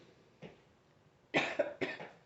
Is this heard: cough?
yes